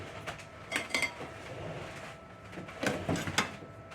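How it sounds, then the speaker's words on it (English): Metal barbecue tongs handled during an outdoor cookout of shishito peppers and brisket, giving a few sharp clinks and clacks in small clusters over a low background hum. "Grab a pair of tongs."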